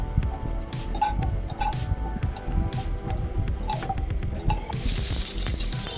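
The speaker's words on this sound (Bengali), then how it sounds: "আমার উচ্ছেটা লম্বা লম্বা করে কেটে রেখেছিলাম সুন্দর করে ওটা আমি ভেজে নিচ্ছি" Long bitter gourd strips frying in hot oil for a Bengali shukto, a steady close crackle and sizzle with small pops throughout, growing brighter near the end.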